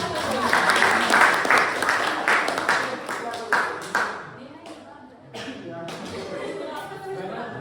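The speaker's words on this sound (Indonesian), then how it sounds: "Tepuk tangan untuk kelompok lain." A classroom of students claps for another group after a lesson discussion, a dense burst of applause that thins and fades after about four seconds, followed by scattered murmuring and shuffling.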